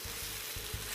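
Rice in a pan sizzles and crackles steadily as the first broth goes in to cover the grains, with soft periodic stirring scrapes over the fry, close and moderately loud.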